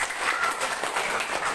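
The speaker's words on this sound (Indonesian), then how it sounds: "Tepuk tangan buat Mas Leri." Brief burst of applause for a presenter at a company presentation, steady dense clapping from a room audience for under two seconds.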